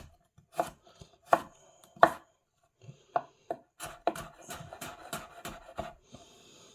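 A knife chops a carrot on a cutting board, each stroke a sharp, close knock. A few spaced chops come first, then a quicker, steady run of cuts. No one talks.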